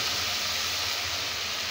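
Mushrooms sautéing in a pan for fried rice make a steady, even sizzling hiss, close and unbroken throughout.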